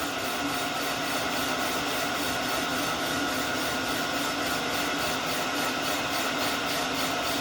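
A Rottler F2B boring machine cuts the cylinder bores of a Pontiac 400 engine block with a continuous, even grinding drone, steady and unbroken throughout, with no talking.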